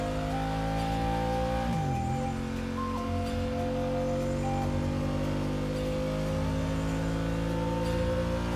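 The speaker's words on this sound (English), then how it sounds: "Rev the engines!" Car engines rev steadily in a Genshin Impact game event, a dense continuous drone with layered engine tones and a pitch dip early on, loud and unbroken throughout.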